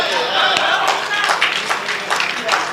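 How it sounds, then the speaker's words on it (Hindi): Dense, sustained clapping from an audience filling a hall, steady and loud across the whole stretch with scattered sharper claps and some crowd voices mixed in. "पूरे सदन में जोरदार तालियां एक बार"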